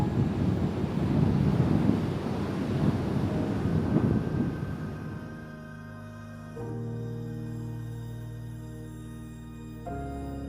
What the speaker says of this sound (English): And the wind is coming directly towards us too.